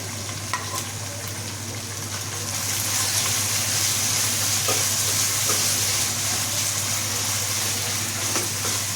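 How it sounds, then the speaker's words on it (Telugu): Mint and coriander leaves tempering in hot oil with ginger, a dense close sizzle that swells louder a few seconds in and stays steady, over a constant low electrical hum, with no speech. "ఇప్పుడు పుదీనా కొత్తిమీర తాలింపు పెడతాను."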